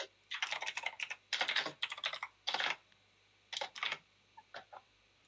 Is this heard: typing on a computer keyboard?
yes